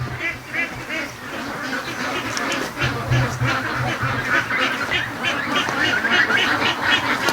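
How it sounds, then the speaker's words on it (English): A large flock of free-range ducks rushing out of a pen quacks continuously, many overlapping calls forming a dense, noisy chorus nearby. "there's still a whole bunch of ducks over here"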